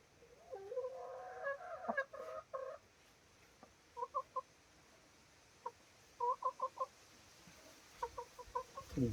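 A hen about to lay an egg clucks in short bursts of two or three notes, a busier run at the start and then spaced, moderately close calls over quiet outdoor background.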